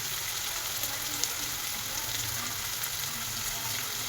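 Chopped onions with salt sizzle in a pan while cooking a meal-maker curry. The frying hiss is steady and moderately quiet, with faint stirring scrapes and no talking.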